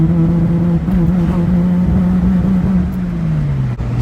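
A 1JZ Toyota Supra engine pulling under throttle in fourth gear on a highway, a loud steady drone from inside the car whose pitch holds and then drops near the end.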